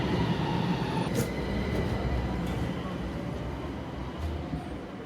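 A Toyama streetcar pulls away from a stop toward Iwasehama, a dense rumbling roll of wheels and motor close by with faint squeal touches, fading slightly as it departs.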